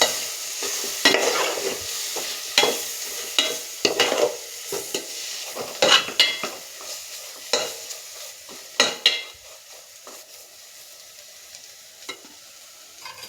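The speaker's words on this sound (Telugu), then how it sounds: "ఇదంతా ఒకసారి బాగా కలుపుకుందాం." Turmeric and chili are stirred into a fish curry masala with a spoon, giving a string of close scraping strokes over a faint sizzle, spaced irregularly with quiet gaps between, and no voices.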